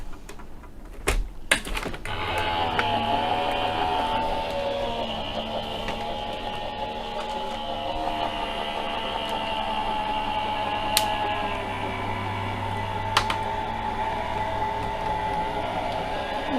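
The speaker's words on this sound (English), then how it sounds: "And then we'll run that through the die cutting machine as well." A die cutting machine runs continuously with a steady mechanical whir and hum, marked by a few sharp clicks at the start and scattered ticks later, close by and without talk.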